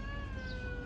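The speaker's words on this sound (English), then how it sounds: "Look at those street cats, and they're feeding them." Street cats in Degla, Maadi, on a sunny outdoor walk give a faint, drawn-out steady meow, quiet and distant beneath the ambient street noise.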